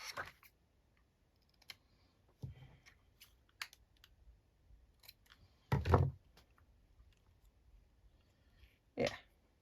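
Scissors snipping paper for a junk journal, a few scattered crisp cuts separated by quiet gaps, with one louder crunchy snip near the middle and another toward the end, close and alone.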